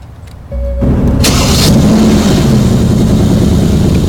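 A car engine in a video game cranks and catches, then settles into a loud, steady idle that continues to the end.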